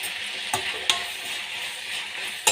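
Onion and tomato frying in a pan with chili powder for an onion palya, giving a close steady sizzle broken by a few sharp spoon taps against the pan.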